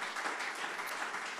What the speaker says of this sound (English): big old hand clap, cheer